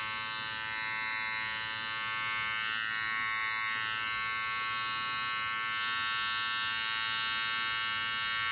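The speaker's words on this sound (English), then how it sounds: "This is a common area for the clipper to leave some long hairs." Electric hair clipper running steadily while trimming a boy's hair around the ear, a close, continuous high buzz with a slight wavering as it moves through the hair.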